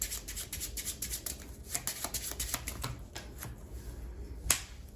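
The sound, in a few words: shuffling a deck of playing cards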